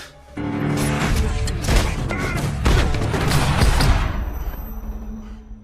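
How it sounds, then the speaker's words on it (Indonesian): Burst of film gunfire in a shootout where a character named Hammond is hit, dense loud shots and crashes running several seconds with a faint voice briefly present. "Hammond terkena tembakan dan tewas di tempat"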